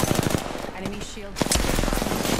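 Rapid automatic gunfire in a first-person shooter, loud bursts of close shots with a spoken voice briefly in the middle before firing resumes.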